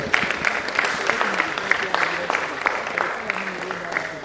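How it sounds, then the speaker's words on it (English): A round of applause for presenters at a college of medicine scientific conference plenary session, steady clapping from an audience filling the hall for several seconds, with some voices mixed in. "Please a round of applause for them."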